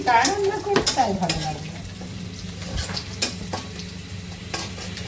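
Ingredients stirred in hot oil in a pan for a Bangladeshi ghonto, with a steady sizzle and scraping stir strokes, plus a few sharp utensil clatters near the start.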